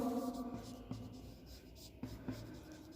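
Marker or chalk writing on a board, with several short scratchy strokes and taps at an irregular pace, faint under a quiet room background.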